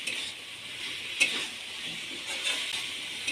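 Ridge gourd and fried fish roe stir-frying with spices in a pan, a steady moderate sizzle with occasional spatula clinks and scrapes, no voices.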